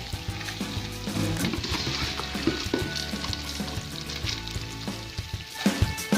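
Turnips and brown fried onion sizzle and fry steadily in a pan for a stir-fried bhujiya, a continuous close crackle with a few stirring clatters.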